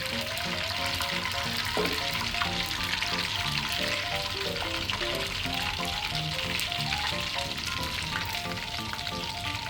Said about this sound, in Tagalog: Inuwa ko lang po, batch per batch. Yan, pwede na natin ilagay yung ating mga hipon.